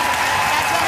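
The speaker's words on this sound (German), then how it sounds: "Hier gibt's Applaus." A television studio audience on a German entertainment show breaks into loud, dense applause that fills the short moment evenly and close.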